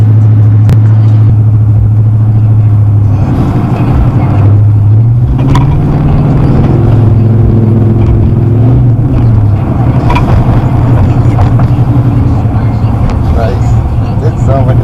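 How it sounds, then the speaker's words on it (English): A car with a cammed 6.2L engine accelerates, its low engine drone rising and falling in pitch with a whistly, turbo-like character, loud and close, while people talk over it. "It sounds like a turbo."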